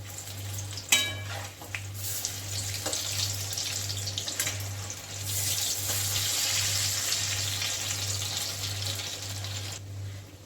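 Karela leaf pakoras bubble and sizzle in hot oil, a steady dense frying hiss running throughout with a few brief clinks as the fritters are turned, alongside a constant low hum.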